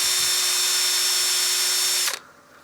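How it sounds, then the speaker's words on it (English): A power sander whines steadily against a wooden platter on a lathe, loud and close, then cuts off abruptly after about two seconds. "So as I'm power sanding"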